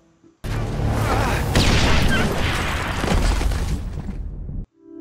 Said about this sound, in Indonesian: akibat ledakan itu membuat Atami tidak sadarkan diri.